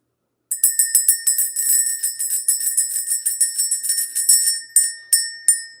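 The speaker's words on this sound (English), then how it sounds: "All right, let's ring the bell." A small bell struck repeatedly in quick succession, bright metallic rings in a steady rapid rhythm for several seconds, then a few slower, spaced strikes at the end, close and clear with no talk.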